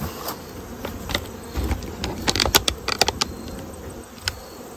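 Honey bees buzz around a strengthened hive that has just been given a new queen, a steady outdoor hum with scattered nearby passes and clicks, no voices.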